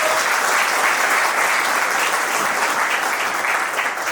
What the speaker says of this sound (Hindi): संजय भाई छा गए हो तो तालियां बजाइए जोर से।